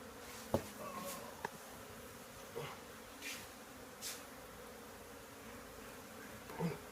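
Honey bees in a hive built inside a garage produce a faint, steady buzzing drone, with a few soft knocks and clicks of hive work scattered over it.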